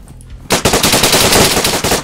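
A burst of automatic gunfire starts abruptly after a quiet moment and continues as loud, rapid, closely spaced shots until the end.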